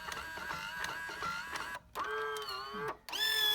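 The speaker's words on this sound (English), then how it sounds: "you can hear it cycling a couple extra times because we're getting kind of low on tobacco" Powermatic III electric cigarette-rolling machine cycling while low on tobacco, a busy whirring, clattering mechanical run with short pauses between cycles, close and moderately loud.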